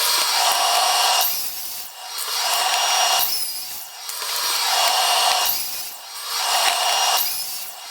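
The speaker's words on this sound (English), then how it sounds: "over at the miter saw, we're gonna cut those 8-inch wide pieces down to 4 feet long" A miter saw cuts 8-inch-wide wood boards to 4-foot lengths, giving three loud, whining cuts of about two seconds each, with brief spin-down gaps between them and no talk.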